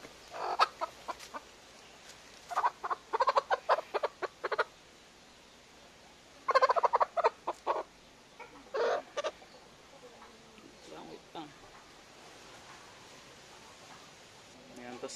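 A sick hen that has stopped laying clucks in short rhythmic bursts while being fed a dewormer made from betel nut, with quiet pauses between the clusters of calls.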